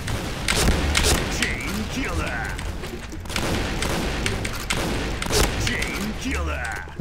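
Game explosions in PUBG, with several thudding booms and bursts of fire at a steady pace, fairly loud and near, while someone talks over the action.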